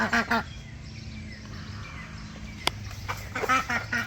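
A duck quacks in a few short bursts at the start and again near the end, with softer rustling between and one sharp click in the middle, all fairly close and without talk.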